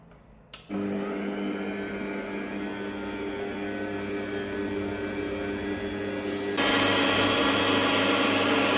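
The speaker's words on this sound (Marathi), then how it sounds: "आत्ता हायेस्ट स्पीड चालू आहे, तरीसुद्धा तुम्ही बघू शकता की मिक्सर थोडासुद्धा शेक नाही करत आहे." A new stand mixer whipping cream for one cake at its highest speed, a loud steady motor whine that starts with a click, holds evenly, then steps up louder and brighter near the end, with no talking.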